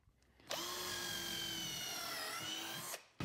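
A power drill bores a pre-drilled pilot hole into wood while a raised garden bed is built, one steady high whine held for about two and a half seconds, close and loud, with no talking.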